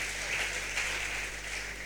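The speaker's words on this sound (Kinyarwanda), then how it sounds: "Nimumfashe tumukomera amashyi" A church congregation applauds in Nyabiheke, a steady wash of clapping heard from some distance with a constant low hum running underneath.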